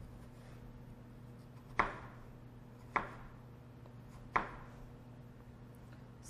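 Knife cutting a stack of apple slices into thin strips on a cutting board, three sharp, evenly spaced chops against a quiet background hum.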